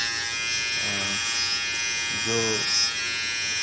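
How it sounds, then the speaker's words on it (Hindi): A Philips BT3221 electric beard trimmer buzzes in two short bursts, a brief one then a longer steady hum, close by, while a person speaks in Hindi over it. "लेकिन ये ट्रिमर है एक्चुअली, तो ये सिर्फ ट्रिम करता है"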